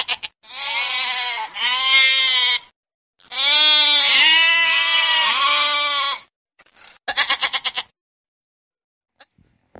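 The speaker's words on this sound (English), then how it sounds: "G for goat." A goat bleats repeatedly in loud, wavering, harmonic calls, two long bleats followed by a shorter stuttering burst, heard close and alone with no talk.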